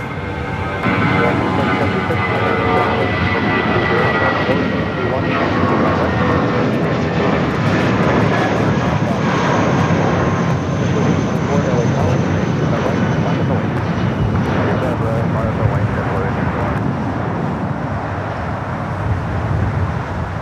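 A Boeing 747-8 Intercontinental arriving from Seoul at LAX roars loud and steady with engine noise for the full stretch, a broad rumble with a slowly shifting whine on top.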